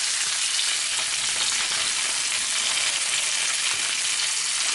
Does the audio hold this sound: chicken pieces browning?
yes